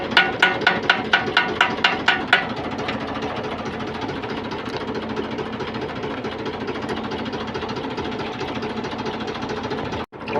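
A tractor engine arrives for pesticide spraying on a farm, first giving a string of rhythmic knocking pulses, then settling into a steady, close running drone that briefly cuts out near the end.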